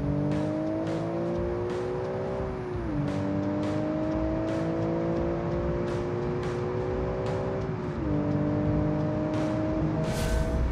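A car with a manual gearbox accelerates hard in BeamNG.drive, its engine note climbing steadily and dropping at two clear gear changes, loud and continuous with sharp clicks over the top.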